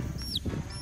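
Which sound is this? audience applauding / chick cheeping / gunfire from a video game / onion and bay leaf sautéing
chick cheeping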